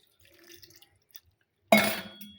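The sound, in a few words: water being poured onto jaggery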